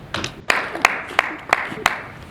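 A small fellowship audience claps for two members at a board unveiling, giving five or six sharp, separate claps spaced roughly evenly against a murmuring room, each one crisp and fairly near.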